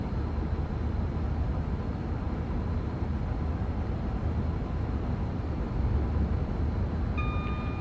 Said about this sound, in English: I can see the Pendolino does pick up speed relatively quickly.